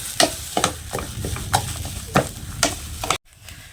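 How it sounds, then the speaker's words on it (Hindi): Mustard greens stir-fried with chilli, turmeric and salt in a kadhai over a village stove, a spatula scraping and tapping in repeated strokes over a soft sizzle, close up, ending abruptly. "अब मसालों को भी 1 से 2 मिनट तक साग के साथ अच्छे से भून लेंगे"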